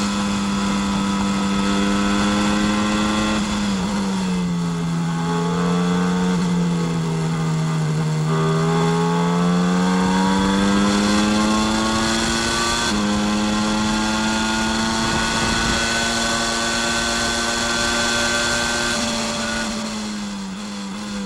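Formula 1 cars of the 1993 season racing at the French Grand Prix, a continuous loud high-pitched engine wail whose pitch rises and falls as the cars accelerate and ease off through a long right-hand bend.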